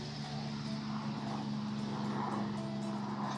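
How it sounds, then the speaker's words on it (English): Steady droning rotor and engine rumble of a helicopter passing overhead near an airport, continuous and moderately loud with no other sounds over it. "You can hear the helicopter going over top"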